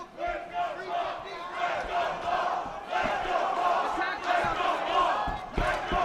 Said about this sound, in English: Arizona faithful cheering on Paul Marghitas